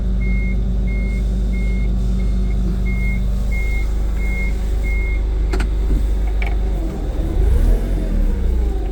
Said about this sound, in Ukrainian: Я також ось зумер, проекція реверсу при русі назад.